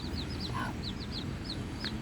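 A grumpy mother hen clucks softly and low, with repeated short, high peeps scattered over it, all faint against quiet background noise.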